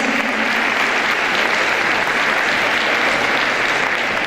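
Steady, dense applause from a conference audience welcoming speakers onto the stage, loud and unbroken for the whole stretch with no voices over it.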